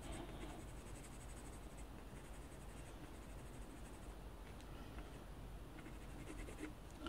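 Watercolor pencil coloring on paper, faint scratchy strokes repeating steadily at close range, quiet and with no talk.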